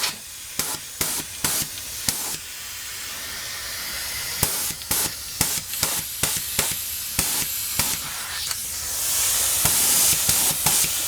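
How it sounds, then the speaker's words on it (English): Short bursts of hissing spray from a sprayer set to a cone pattern, priming a Briggs Model N engine, repeat in an irregular rhythm, close by, then give way to a longer, steadier spray near the end. "I tuned the sprayer to spray in a cone,"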